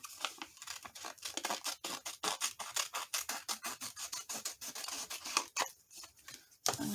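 Scissors snip and trim paper for a Halloween journal in a quick, uneven series of close, crisp cuts, with brief rustles between strokes.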